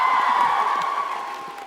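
A large audience at a TwitchCon Amsterdam 2022 LGBTQIA+ panel cheers and whoops loudly in a hall, a sustained roar of voices that slowly fades.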